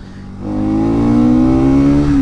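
A Bajaj Pulsar NS200 motorcycle engine revs hard past 6,000 RPM, its close, loud tone climbing steadily in pitch and holding a strained, rising whine with no voices.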